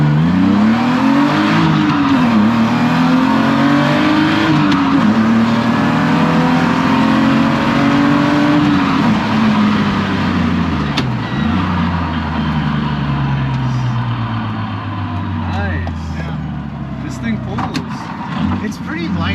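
A 1997 BMW E36 M3 coupe engine rises and falls through repeated acceleration pulls, loud and close from inside the cabin, with people talking over the engine note.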